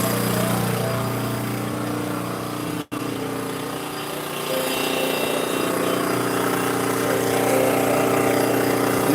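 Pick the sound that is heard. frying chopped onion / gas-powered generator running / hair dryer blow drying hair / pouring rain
gas-powered generator running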